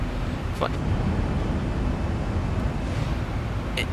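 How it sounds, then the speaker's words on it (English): Steady, loud rushing airflow noise fills a Boeing 737 cockpit in a flight simulator at high speed above 350 knots, a constant broadband roar that drowns out the engines, with a couple of faint brief clicks. "It's more airflow noise in reality. It's really loud and it drowns out the engine at this speed above 350 knots."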